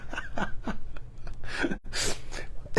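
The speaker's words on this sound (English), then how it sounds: "Oh, I feel a sneeze coming on." A single sharp sneeze bursts out near the end, preceded by quick sniffing, gasping breaths, close and loud.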